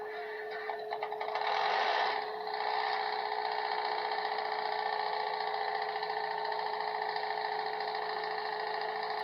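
A mechanical reefer refrigeration unit starts up. A diesel engine turns over and then settles into a loud, steady, close drone with a constant mechanical whine.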